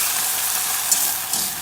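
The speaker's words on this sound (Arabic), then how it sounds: "على النار هنحط حلة، نحط حبة زيت زيتون، نحط معلقة كبيرة من الزبدة" Butter, olive oil, flour and mastic sizzle in a pot over the heat, giving a continuous close, bright frying hiss with a couple of faint pops.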